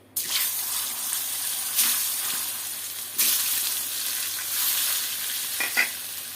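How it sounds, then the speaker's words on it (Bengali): Eggs frying in a pan with salt and turmeric, giving a steady crackling sizzle with occasional louder bursts as the pan is stirred, with no one talking. "একটু লবণ, একটু হলুদের গুঁড়া, এটা দিয়ে তারপর ডিমগুলা ভাজতে হবে।"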